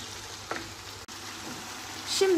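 Chickpeas cooking in a pan for chana masala, a soft steady sizzle with a light scrape of stirring, brief and fairly quiet.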